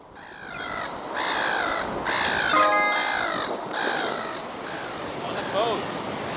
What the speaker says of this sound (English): Look, birds, it says.